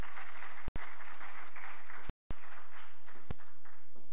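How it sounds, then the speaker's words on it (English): Audience applause at a Digital Africa 2018 conference session, a steady wash of clapping from a crowd with two brief dropouts, no voices over it. "Please, a round of applause."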